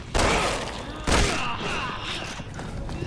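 Two sharp gunshots from a weapon in Resident Evil 5 or 6, about a second apart, loud and close with a ringing, echoing tail, over steady game background noise and some speech.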